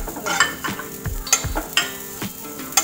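Poppy seeds and grated coconut roast in a pan, with a light sizzle under repeated spatula scrapes and clinks against the metal, brief and close.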